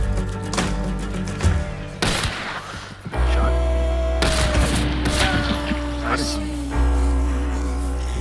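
Gunfire in the video game Hunt: Showdown, a run of loud cracking shots and booming reports with rumbling low tails, close and heavy, while a player talks over the action.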